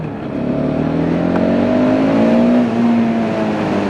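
A KTM 690 Duke single-cylinder motorcycle pulls hard in second gear, its engine note loud, steady and rising as it accelerates, with no voices.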